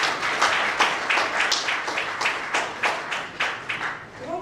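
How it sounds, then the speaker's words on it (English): A conference audience applauds the chairman, with a short burst of scattered claps from a modest crowd that rise and fade unevenly over a few seconds and hold no speech. "Please, a warm round of applause for him once again"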